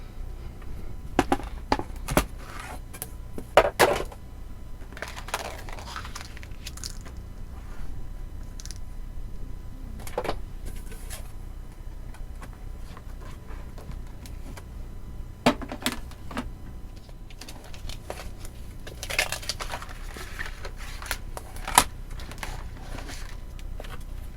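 A large electronic cutting machine cutting and scoring paper for a coffee cup gift box, a steady mechanical whir with scattered clicks and taps, close and continuous, no talk.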